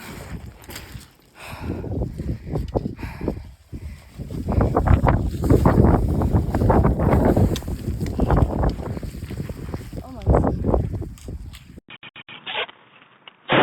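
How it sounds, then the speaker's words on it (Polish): Loud, gusty wind on Mount Rinjani, a volcano in Indonesia, roaring and buffeting the microphone, rising and falling in strong surges before cutting off abruptly. "wiatr napierdziela niesamowicie"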